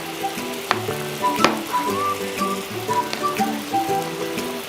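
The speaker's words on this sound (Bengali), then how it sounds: "আমার মশলাটা প্রায় কষানো হয়ে গেছে।" Spice masala sautéing in a pan for a pumpkin and hilsa dish, with a crackling, rain-like sizzle, steady and close, broken by a few sharp spatters and light stirring.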